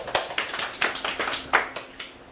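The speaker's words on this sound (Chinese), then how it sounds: "那我们掌声谢谢阿英姐" Hands clapping in applause for hairdresser A-Ying at a styling demonstration, a small group with about a dozen distinct claps in loose rhythm, close and moderately loud.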